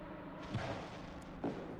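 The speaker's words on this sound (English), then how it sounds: "what's the budget on fireworks, Chuck Norris? Because they are blowing them off there at the moment" Fireworks bursting at a sim racing event in the Spa GT3 race game, a few dull, distant thumps spaced apart over a steady background hum.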